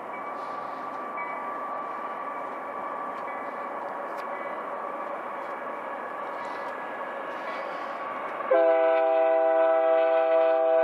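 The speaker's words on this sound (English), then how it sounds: "Our next train is a northbound Union Pacific empty coal train." A northbound Union Pacific empty coal train passes with a steady rumble of rolling cars, then a loud, sustained multi-tone horn blast cuts in near the end and holds to the finish.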